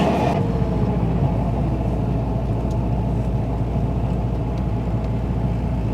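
A Mitsubishi Evo 8 engine runs at a steady, loud, rumbling idle after a rebuild, a continuous low drone with no clear revving.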